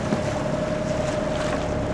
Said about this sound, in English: I am kind of motor sailing